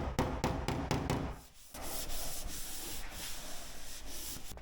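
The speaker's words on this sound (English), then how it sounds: "Once the body filler had gone off, it was time to sand it down, and for this job I used a long flatbed sanding block." A long flatbed sanding block rubbed back and forth over cured body filler on a dented car door, making a loud, steady, raspy scraping that runs continuously with one brief pause.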